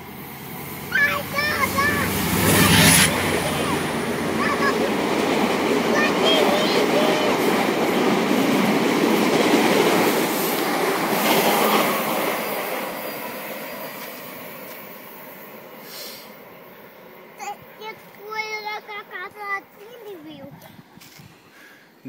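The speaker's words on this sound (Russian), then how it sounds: "Поехал поезд, все, уехал." A commuter train rumbles past Picnic Point Park with a sustained roar and clatter of cars that fades away, while a child and an adult talk nearby.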